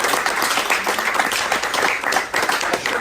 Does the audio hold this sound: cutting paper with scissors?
no